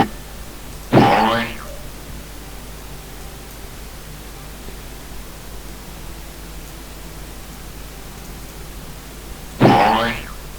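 Two short springy boing effects triggered from a Scratch soundboard, each a quick bright wobble several seconds apart over a steady background hiss.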